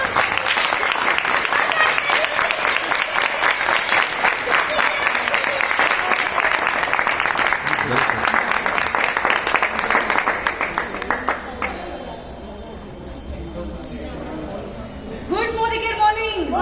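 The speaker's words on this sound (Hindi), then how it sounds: "एक बार जोरदार तालियां मेरी ऑल अपलाइन के लिए।" A crowd at a team gathering gives long, loud, dense applause for about twelve seconds. The clapping fades and then a voice speaks.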